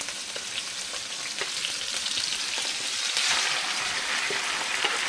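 Steady, close frying sizzle as beef cooks with sautéed onions and peppers for Asian chuck steak tacos, a dense crackle that swells slightly midway, with light stirring.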